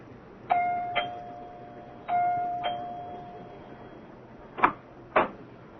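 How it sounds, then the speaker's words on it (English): A doorbell chimes twice in a ding-dong pattern in a 1975 radio drama, pauses, then rings twice more, followed by two sharp knocks or clunks. "Dr. Lem Regan rings the doorbell of Clyde Wilkins' house"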